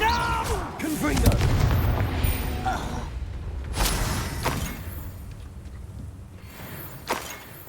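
Confringo fire spell blasts in Hogwarts Legacy, heavy booming impacts with a loud burst early and sharp cracks later, mixed with game sound effects and no talk over them.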